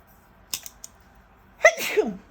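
One person sneezes close by, preceded by a couple of small breathy clicks and intakes, then a single sharp sneeze with a voiced, falling tail, in an otherwise quiet room.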